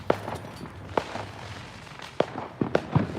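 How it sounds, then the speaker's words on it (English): Fireworks popping outside on a Fourth of July night, a scattered series of sharp cracks and bangs at varying distances, some quick clusters toward the end. "Yeah, there's lots of fireworks out here."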